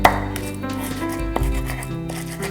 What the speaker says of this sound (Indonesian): Kemudian lengkuasnya juga kita keprek.